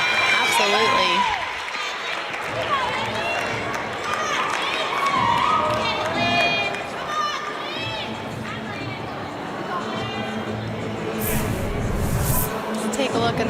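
A crowd at Huff Hall cheers and claps during a Michigan at Illinois gymnastics meet, a lively roar under commentators talking throughout, with swelling bursts near the end.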